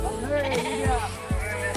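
Sheep bleat twice, wavering calls close by, over a steady murmur of background voices and outdoor noise.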